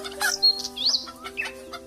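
A cartoon chicken clucks in a short burst of bright, squawking calls, a few quick notes close up over a soft musical background.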